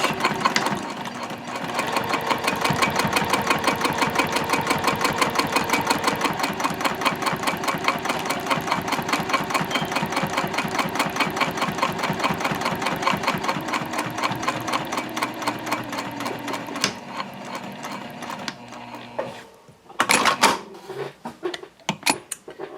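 A sewing machine runs steadily through a tote bag's top panel and seam at a 3.5 stitch length, its fast rhythmic needle chatter close and loud for most of the stretch before slowing and stopping near the end with a few clunks.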